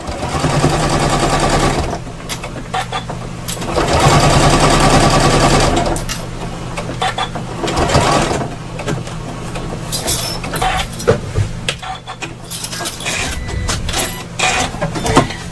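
An embroidery machine stitches a wire frame bag in long bursts of rapid, rattling needle strikes, pausing briefly between runs, loud and close, with a few sharp clicks.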